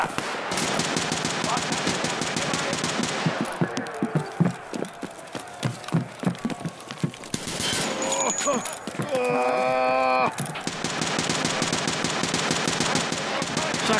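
Rapid gunfire from a shotgun in the video game Escape from Tarkov Arena, with loud, dense bursts of shots, a stretch of scattered single shots and game sounds in the middle, then another long burst.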